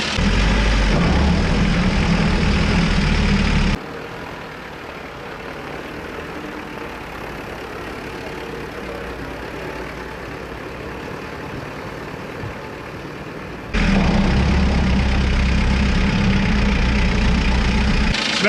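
Small left-hand-drive diesel mini truck idling, a steady low rumbling chug that drops quieter for about ten seconds in the middle before returning, with no talking.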